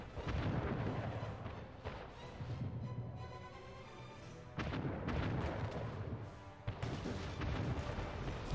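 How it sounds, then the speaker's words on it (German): Naval cannon fire from a fleet in the Anno 1800 strategy game rumbles as dense, continuous booming salvos, loud and heavy, with a few sharper blasts breaking through the roar. "Flotte bereit zum Feuer."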